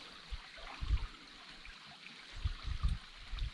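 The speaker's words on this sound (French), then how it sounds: "Nous croisons le ruisseau et c'est ici que nous allons commencer la descente du Rio Abellio." A small stream flows steadily nearby on a river descent, a continuous soft trickle with low gurgles that swell and fall.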